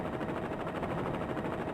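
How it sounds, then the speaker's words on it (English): A helicopter roars in a PS1 demo disc video game as a steady, loud, dense rotor wash that fills the whole stretch with constant broadband noise and no talking. "The chopper is too loud."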